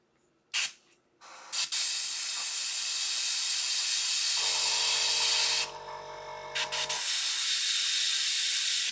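An airbrush sprays paint onto a Warhammer Warcry miniature: short bursts give way to a long, steady, loud hiss, with a low buzzing compressor hum joining midway and then cutting out while the spray continues.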